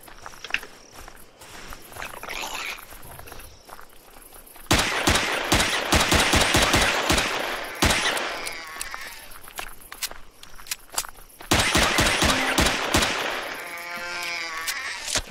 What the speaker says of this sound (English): Meanwhile, my gun is shooting at something.